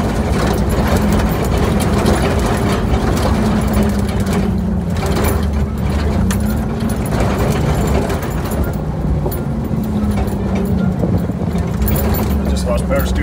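A rough, low Jeep Willys engine and exhaust drone runs continuously and loudly while driving in the desert, with people talking over it.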